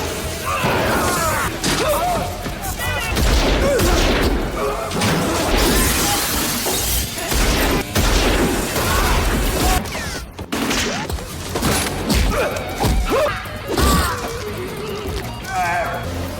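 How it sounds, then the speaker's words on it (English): A brutal gunfight in a Steven Seagal action film set around a mine, with dense bursts of gunfire, shattering and crashing impacts, and shouting, loud and continuous with only brief gaps. "Hanner's son and hired mercenaries ambushed Jack, triggering a brutal gunfight."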